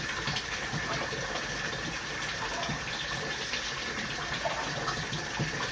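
Water gushes out of a basement utility sink drain in a steady, close, continuous rush with no voices over it.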